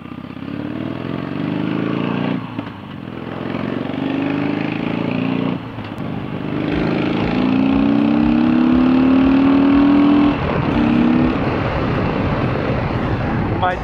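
Harley-Davidson motorcycle engine on a winding Yorkshire road, rumbling and revving with brief dips as gears change, accompanied by steady wind and road noise.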